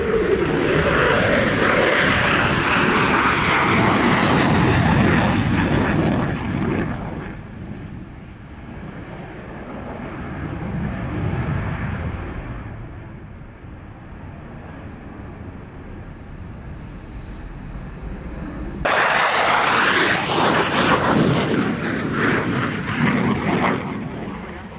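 Belgian Air Force F-16 fighter jet flying an air show display, a loud sustained roar that fades into a distant rumble and then surges back up as it passes close again.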